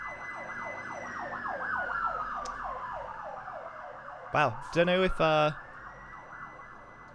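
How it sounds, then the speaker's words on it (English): A fire engine siren passes along a residential street, its wailing sweep rising and falling loudly and steadily, with a brief burst of horn blasts partway through and a few words spoken over it. "if you can hear that, but that is a fire engine on my street"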